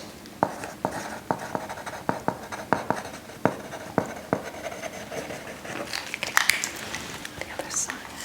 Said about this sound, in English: Just going to be writing that down.